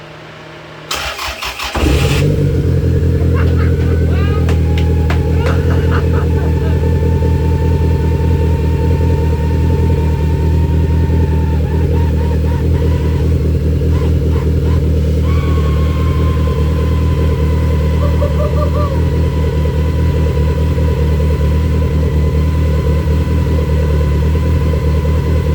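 A Toyota Celica cranks briefly, catches and settles into a loud, steady idle with a deep rumble that carries on alone for over twenty seconds, the pitch easing slightly partway through.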